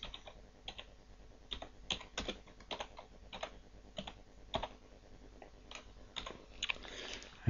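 Keys on a computer keyboard tapped in short irregular bursts while a new name is typed into the story editor of Scribus desktop publishing software, close and fairly quiet, with no talking.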